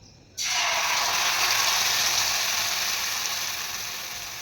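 Marinated hilsa fish drops into hot oil after a brief quiet moment, and a loud, sudden sizzle bursts out. It holds as a dense, steady hiss, then eases off slightly toward the end.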